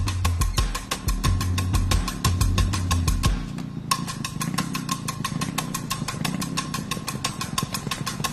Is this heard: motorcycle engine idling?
yes